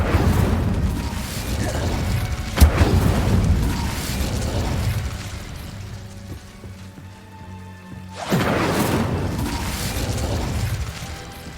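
A fire spell cast in Hogwarts Legacy erupts as a loud whooshing burst of flame with a sharp crack, roaring and fading before a second fiery rush swells up.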